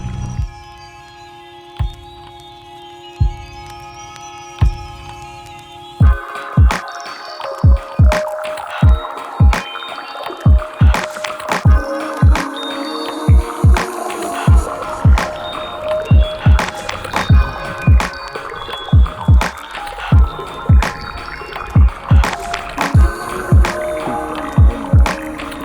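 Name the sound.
paddling a canoe on a clear spring lake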